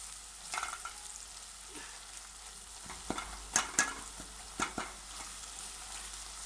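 Onion-and-spice masala with turmeric and salt is stirred in a frying pan for okra. A soft, continuous sizzle runs under scattered scraping strokes of the spoon against the pan, with no talking.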